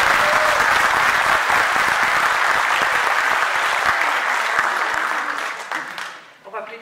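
An audience at an arm wrestling competition opening bursts into loud, sustained applause that fills the room, then thins out and fades into a few scattered claps at the end.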